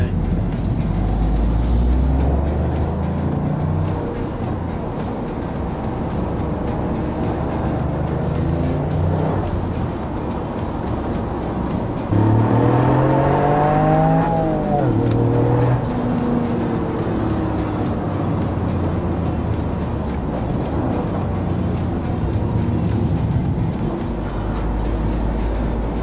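A 2020 Toyota GR Yaris engine revs up and down with a blipped rev-match on a downshift, a rising, wavering tone standing out mid-clip over steady cabin road and engine noise throughout.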